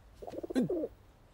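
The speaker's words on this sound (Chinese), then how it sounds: "王爷，你在这儿还有鸽子呢。" Pigeons coo in a short, soft burst, a few rolling throaty notes heard close and alone against a quiet background.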